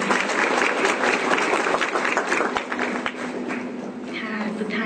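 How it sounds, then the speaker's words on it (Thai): Students applauding to honour a teacher at a university class ceremony in Thailand, a close, dense round of clapping that gradually softens, with a faint voice beneath it. "ขอเสียงปรบมือเพื่อเป็นเกียรติแก่ท่านอาจารย์ค่ะ"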